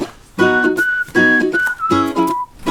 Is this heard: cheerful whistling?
yes